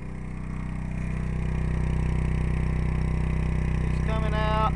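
A natural gas generator runs with its exhaust routed through a motorcycle muffler, giving a steady, loud, low droning hum that holds throughout, with a brief higher tonal sound near the end.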